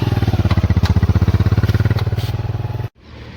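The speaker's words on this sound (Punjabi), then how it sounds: "ਦੁਬਾਰੇ ਆਪਾਂ ਮੋਟਰਸਾਈਕਲ ਤੇ ਪੈਟਰੋਲ ਤੇ ਕਰਕੇ ਚੱਲਦੇ ਆ" A petrol-running motorcycle engine on a converted petrol-and-electric bike, loud and close with a steady rapid throbbing pulse for nearly three seconds, then cutting off abruptly into near silence.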